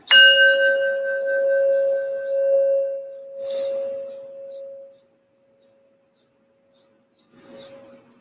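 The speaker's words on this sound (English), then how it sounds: "at the sound of the bell" A meditation bell is struck once, giving a clear, resonant ring that slowly fades over several seconds, followed by a faint second soft tone near the end, in an otherwise quiet setting.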